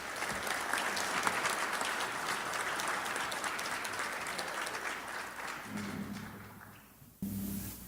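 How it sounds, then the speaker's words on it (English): An audience at a Kiwanis Club of Roanoke meeting claps for the speakers in steady, dense applause that fades toward the end, then jumps up again briefly. "Please give our speakers one more round of applause."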